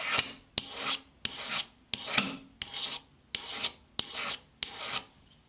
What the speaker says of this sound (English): I need to sand the edge, make sure it's even and smooth